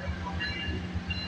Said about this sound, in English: Got another train race too.